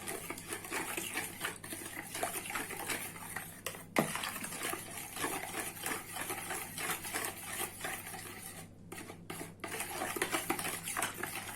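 Sugar and vanilla are stirred into a dough mixture for İzmir bomba, a continuous close rattling and scraping of a spoon in a bowl, with a brief louder clink partway through.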